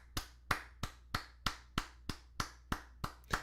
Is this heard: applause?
yes